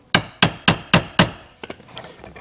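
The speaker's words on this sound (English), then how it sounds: "And I'm going to give it a tap with the hammer." A hammer taps a punch into a plastic side splitter for a BMW i8, five sharp evenly spaced knocks followed by a few lighter, quieter taps and handling noises.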